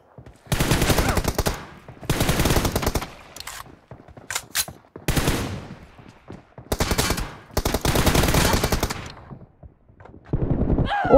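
Loud automatic gunfire in the PUBG/BGMI video game on an iPad, rapid bursts of a few seconds each separated by short quiet gaps, close and dominant.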